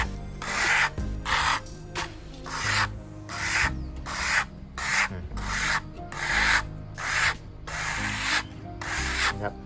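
Hard scraping of an engine oil stain, a steady series of about a dozen rasping strokes in an even back-and-forth rhythm, loud and close with no talk.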